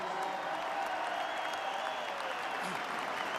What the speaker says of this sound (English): let's give them a very warm round of applause for their contribution